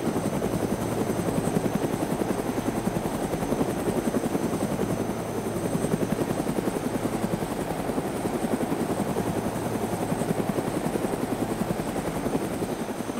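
Helicopter in the video game DayZ, a steady loud rotor drone with rapid blade chop holding evenly throughout, no voices over it.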